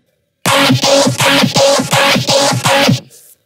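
A loud, gritty Serum neurobass layered with a mono bass pulses in a steady rhythmic pattern with a growling mid-range texture, no voices, then cuts off abruptly.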